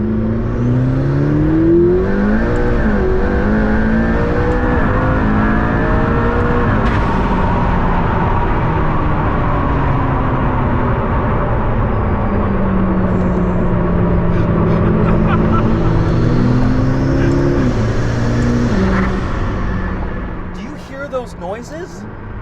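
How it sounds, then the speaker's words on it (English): A 903-horsepower McLaren P1 hypercar revs and accelerates through several rising and falling engine sweeps with downshifts, loud and close from inside the car, then settles at the end. "I'm in a P1 and I want to experience the full 903 horsepower. So let's turn the engine back on."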